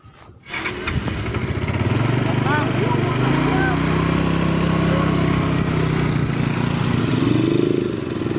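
A motorcycle engine starts up and idles loudly close by, with a steady rumble and slight revving throughout, and people talk over it.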